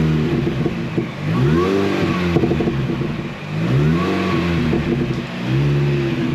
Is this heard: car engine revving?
yes